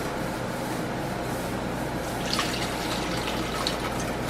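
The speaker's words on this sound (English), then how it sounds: "I'm going to pour it right in this bowl if I can." Juice from a barbecue pork roast poured into a bowl, a soft continuous liquid trickle and splash with a few small drips, close and fairly quiet, no talking.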